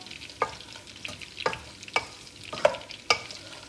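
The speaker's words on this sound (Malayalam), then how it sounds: "നമ്മൾ ഇപ്പുറത്തെ സൈഡിൽ ചിക്കൻ ഫ്രൈ ചെയ്യാൻ വെച്ചിട്ടുണ്ട് കേട്ടോ ലോ ഫ്ലെയിമിലാണ് ആക്കിയിട്ട് വെച്ചങ്ങനെ" Chicken pieces fry in oil over a low flame for biryani, with a quiet, steady sizzle broken by five sharp spatula clinks and scrapes at uneven intervals.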